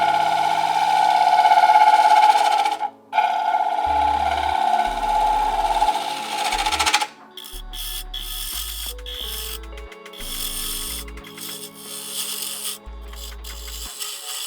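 A gouge cuts a wooden bowl spinning on a lathe, its bevel riding down the inside in a steady close rasping hiss that breaks off, then returns as shorter, choppier cutting strokes with clunks and machine hum.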